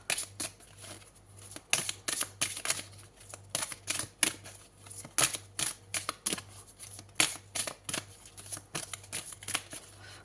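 Tarot cards being shuffled by hand at close range, a fast run of crisp riffling flicks and soft slaps that repeat in uneven bursts over a faint steady hum, with no talk.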